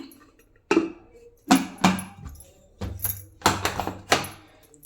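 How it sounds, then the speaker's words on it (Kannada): A pressure cooker lid being closed in a home kitchen, heard as a series of close, sharp metallic thunks and clunks spaced irregularly over a few seconds, with no talking. "ಕುಕ್ಕರ್ ಕ್ಯಾಪನ್ನು ಕ್ಲೋಸ್ ಮಾಡಬೇಕಾಗುತ್ತೆ"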